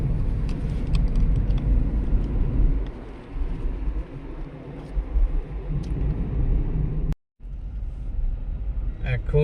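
Car being driven along a road through a tea garden in North Bengal: a steady low engine and road rumble throughout, with people talking over it and a brief dropout near the end.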